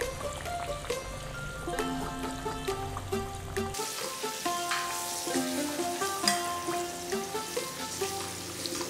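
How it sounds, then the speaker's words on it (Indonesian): Oil sizzles steadily around a gourami being half-fried, with a brief clatter early on and crackling that grows brighter and busier after a few seconds. "ini kita goreng setengah dulu"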